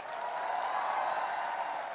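A steady wash of applause fills a graduation hall as the Director of Academics is called to the stage, dense and continuous throughout, with no voices standing out.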